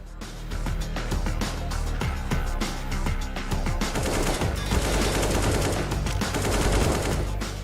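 AK rifle fire on the Overpass map in CS:GO during a professional match, heard as rapid, loud bursts of automatic shots that grow denser and more layered toward the end.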